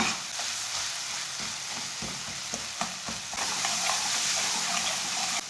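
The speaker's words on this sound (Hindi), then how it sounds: "इसे ऐसे ही चम्मच चलाते हुए हल्की सी आंच पर भून लेना मसालों को" Whole spices roasting for egg curry in a pan over a low flame, with a soft steady sizzle and the occasional scrape of a spoon stirring, close and fairly quiet.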